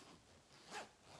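A clothing zipper is pulled open in a single brief, faint zip over a quiet background.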